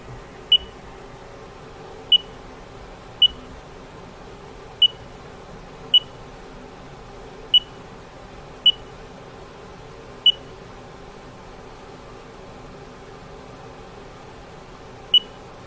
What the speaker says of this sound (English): that final beep indicates that the data is saved into G54 for X and Y